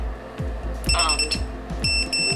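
An FPV drone's beeper, switched on through Betaflight setup on a pre-owned budget quad, chirps in short repeated high electronic tones with a few separate bursts, sounding close and fairly loud with no talking.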